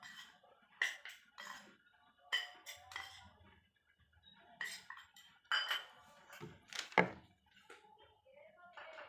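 Henna paste mixed with tamarind is stirred in a bowl, giving scattered clinks and scrapes of a spoon against the bowl, close and intermittent, with occasional soft throat sounds between the strokes.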